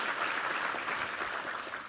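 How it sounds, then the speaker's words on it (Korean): A church congregation applauds the choir and its conductor with steady, dense clapping that fills the hall evenly at moderate volume, then thins slightly toward the end, with no voices heard. "우리 위정민 지휘자와 우리 이부 성가대 함께 한잔 격려와 감사의 박수 드리겠습니다"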